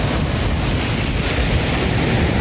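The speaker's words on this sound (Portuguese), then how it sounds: "O mar vem, bate aqui, né?" Sea waves break on an eroding beach at Atafona, São João da Barra, Rio de Janeiro, as a steady, loud roar of surf mixed with wind buffeting the microphone.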